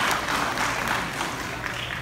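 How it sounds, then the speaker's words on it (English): Attendees at a media event revealing the Ginebra San Miguel 2020 calendar girl applaud in an even, sustained patter that fills the room, with no talking on top. "So give yourself a big round of applause for just celebrating with us tonight."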